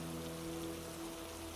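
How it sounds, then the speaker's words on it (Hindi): Light drizzling rain falls in a steady, soft hiss of fine drops, faint and continuous with a low hum beneath, no voices. "अरे देखो बारिश तो वहां पर भी रिमझिम बरस रही है"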